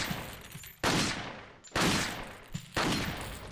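Gunfire in Resident Evil 4 against an enemy: three loud, close shots about a second apart, each with a short decaying tail.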